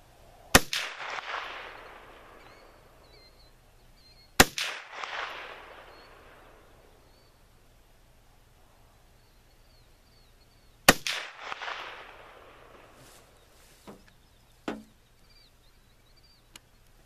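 An M1 Carbine rifle fires three loud, sharp shots at a range, spaced several seconds apart, each followed by a ringing echo that fades into quiet, with a few faint clicks afterward.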